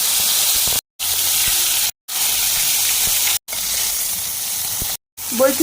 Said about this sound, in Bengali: সবার প্রথম কপিগুলোকে আমি একটু ভেজে নেব।